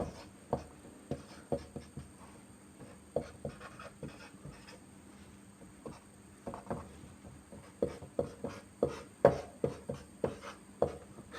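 A pen or marker draws benzene isomer structures on a board, giving a series of close, dry taps and short strokes that come in uneven bursts over a quiet room with a faint steady hum.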